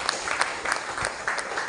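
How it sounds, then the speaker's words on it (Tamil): Audience applause for singers at a performance: a brief, moderately loud patter of scattered hand claps from a small crowd, steady and uneven. "அற்புதமாக நல்ல ஒரு கைத்தட்டல் கொடுக்கலாம்."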